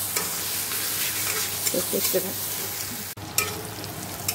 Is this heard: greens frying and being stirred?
yes